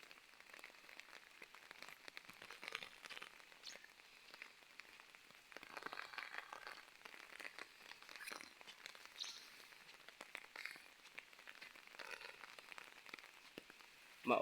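Steady, soft rain patters over an overgrown, grassy farm field planted with rice, a light hiss with scattered drops close by, continuous throughout the 14 seconds, with no voices.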